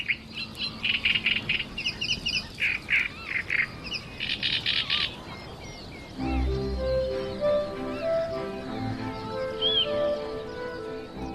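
Reed bed birds, reed warblers, at Lake Neusiedl, call loudly: rapid bursts of harsh, scratchy chirping for several seconds, then a mix of clear whistled notes and chatter from several birds, with no talk.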